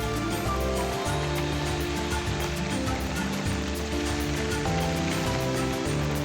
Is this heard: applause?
no